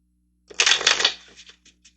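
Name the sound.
playing cards being shuffled for a reading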